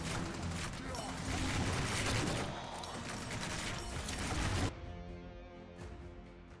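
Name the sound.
homing missiles firing in video game R.I.P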